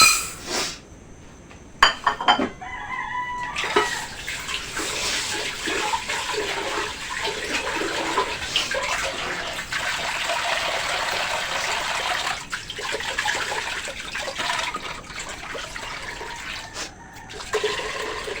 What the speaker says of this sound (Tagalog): Ngayon po ako naghuhugas itong malagkit at bigas.